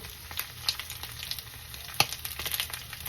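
Cabbage pillows fry in olive oil in a pan, giving a steady close sizzle with scattered small pops and one sharper crackle partway through, with no talking.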